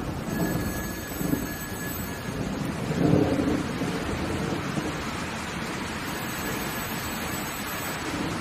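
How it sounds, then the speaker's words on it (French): A telephone rings in a French-language drama film, its electronic bell sounding in bursts at the start and again near the end over a steady background hiss like rain, with no one talking. "Laisse sonner, Chris."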